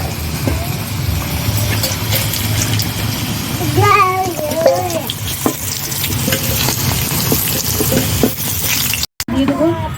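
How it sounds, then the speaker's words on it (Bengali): Potato pieces fried in hot oil for a home-made biryani, with a continuous loud sizzle and the repeated scrape of a spatula stirring them in the pan, while a child and an adult talk over it briefly. "দেখুন আলুগুলো ভেজে নিয়েছি, এবার তুলে নেব"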